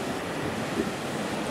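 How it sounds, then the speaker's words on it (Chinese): Spray and rushing water from Christie Falls, a small glacier-fed waterfall in Eglinton Valley, New Zealand, form a close, steady hiss and rumble with faint wind buffeting and no voices. "这个瀑布也是有喷到你"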